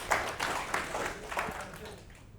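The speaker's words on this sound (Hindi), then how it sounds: "इनके लिए जोरदार ताली होनी चाहिए" Studio audience claps for a correct answer on a live NEET chemistry class stream, a moderate burst of applause with scattered claps across the whole moment, fading toward the end.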